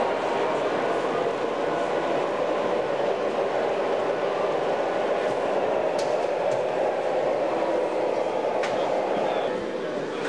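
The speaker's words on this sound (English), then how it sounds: "Here's our digital train coming back around." An N scale digital (DCC) model train runs on a home layout, its steady rolling whir continuous and fairly close throughout, with a few faint clicks and no talk.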